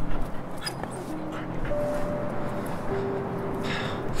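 A dog whimpers and yips softly in an indoor scene, with faint thin whines drifting over background noise and a light voice murmur.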